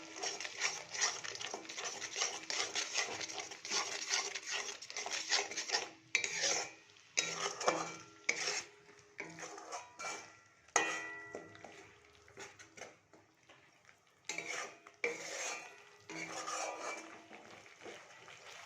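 Ingredients for sorshe vola being mixed by hand in a bowl, with close, busy rubbing, scraping and clinking against the bowl that comes in uneven bursts and brief pauses, and no voices.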